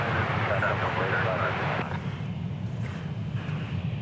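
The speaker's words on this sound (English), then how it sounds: "And that was flight 1098 coming in" An American airliner landing at DFW Airport on a flight in from Kansas City gives a loud, steady jet roar that eases slightly partway through, with faint voices over it.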